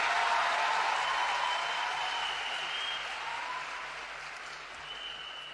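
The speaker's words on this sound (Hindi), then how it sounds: "तो एक बार जोरदार तालियां देश के प्रधानमंत्री नरेंद्र मोदी जी के लिए।" Sustained, loud applause from a large crowd at a public address by Delhi Chief Minister Rekha Gupta rolls on evenly and slowly fades a little over several seconds.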